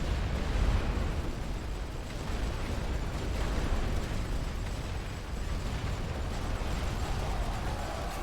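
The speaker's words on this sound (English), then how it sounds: "Oh god, that's a rolling barrage." A rolling artillery barrage in the video game The Great War: Western Front, heard as a dense, continuous rumble of distant explosions with occasional heavier thumps, steady throughout and without talking.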